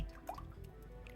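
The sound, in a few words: oil being poured into a pan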